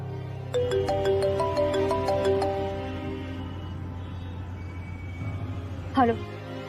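A melodic ringtone sounds over a steady music bed during a tense phone call in a Hindi TV serial, a repeating tune of about two seconds that then fades, with a brief chime near the end.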